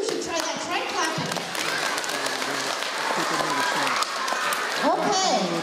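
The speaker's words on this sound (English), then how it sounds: "Try clapping." Children at an elementary school assembly clap together in a loose, lively burst, many hands patting unevenly in a hall while a voice talks over them.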